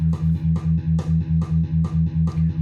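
A distorted metal guitar chugs a steady eighth-note rhythm in 4/4, about a dozen evenly spaced palm-muted hits, loud and close with no talking.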